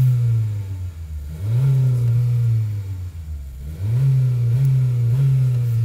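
A Honda HR-V with a 1.5L VTEC turbo engine hums near idle, then revs up twice in smooth rising surges that settle back between them. The engine is loud and close, with no voices.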